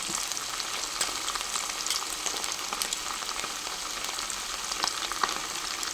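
Pakoda frying in hot oil: a steady, close sizzle with scattered crackles and small pops, no voices.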